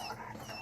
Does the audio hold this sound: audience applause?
no